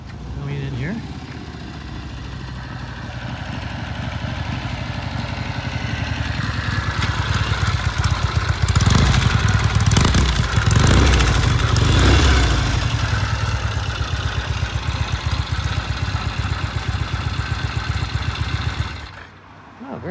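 A vintage British motorcycle rolls in under power, its engine growing louder and burbling through downshifts before settling into an uneven clattery idle, with someone talking over it throughout.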